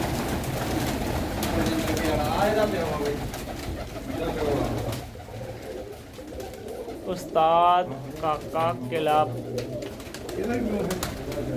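Pigeons coo in a loft, low rolling calls heard close, while someone talks over them throughout.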